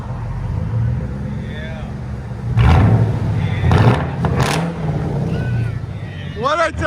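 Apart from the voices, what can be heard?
Lincoln Town Car V8 with modified mufflers, exhaust sound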